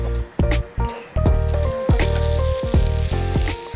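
Butter sizzling in a frying pan, a loud close hiss that drops out and surges back in repeated bursts, with a low hum running underneath and no talk.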